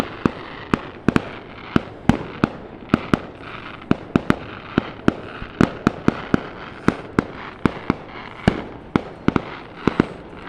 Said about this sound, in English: Someone's having fun tonight. Fireworks are illegal, but it must be someone's birthday.